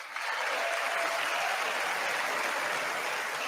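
Sustained applause fills the chamber at the 2024 State of the Union address, a dense, even wash of clapping from a large crowd, steady and loud from start to finish.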